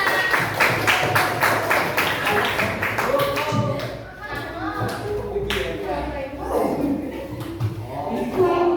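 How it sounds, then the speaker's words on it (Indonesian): A class group claps in a quick, roughly rhythmic burst, then voices take over as people talk. "Oke, tepuk tangan buat kita semua."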